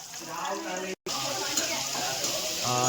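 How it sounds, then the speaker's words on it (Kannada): Tomato and green chilli fry in a pan with oil alongside ginger, cinnamon, cloves and garlic for a mutton dish, producing a steady, close sizzle with stirring scrapes and one brief dropout. "ಟೊಮೊಟೊ, ಈ ಮೆಣಸಿನ್ಕಾಯಿ ಎಲ್ಲ ಹಾಕಿದ್ದಾರೆ, ಅದನ್ನು ಫ್ರೈ ಮಾಡ್ಕೊತಾ ಇದ್ದಾರೆ"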